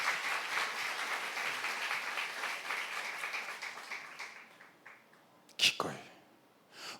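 Church congregation applauding during a sermon, a steady clapping wash that thins out and fades away, followed by a brief sharp noise near the end.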